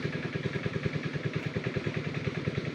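Large engine-driven water pump motor running steadily, pumping groundwater up from below for crop irrigation, with a fast regular chugging pulse, close and even, and no talk over it.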